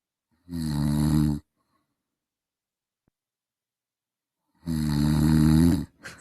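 A person snoring loudly, with two long, heavy rasping snores separated by several seconds of near silence, close to the microphone.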